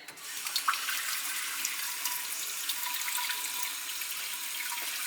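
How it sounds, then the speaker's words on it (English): Water pours into flour for a doubled batch of sourdough pizza dough, a steady close splashing trickle that begins with a few spatters and continues evenly, with no speech. "I'm going to go ahead and let me get my water added."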